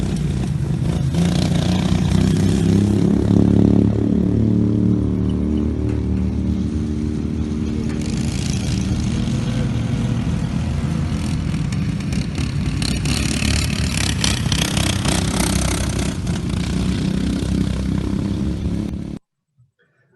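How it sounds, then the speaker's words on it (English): A racing lawn mower with a new silencer roars close by for nearly twenty seconds, its engine note rising and falling as it accelerates and eases along a race track, then cutting off abruptly. "here you'll notice a different engine note that I now have with my new silencer"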